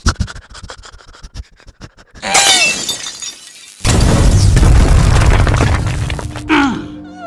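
Cartoon explosion effect as a fuse blows in an Indian animated cartoon: scratchy crackles and a shattering burst build up, then a loud, sustained roaring blast fills the rest, ending with a brief rising tone.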